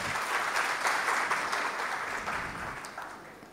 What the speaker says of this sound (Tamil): அவருக்கு ஒரு பெரிய பலத்த கரகோஷம் கொடுங்கோ